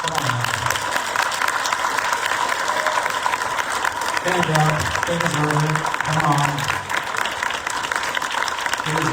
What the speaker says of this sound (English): let's have a round of applause for these candidates